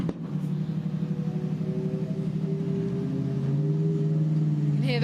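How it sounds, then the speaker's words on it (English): Race car pulling away from the pits at the Mugello 12-hour endurance race, a steady engine roar with harmonics that climb in pitch toward the end, with a voice heard briefly over it. "You can hear the car roaring away."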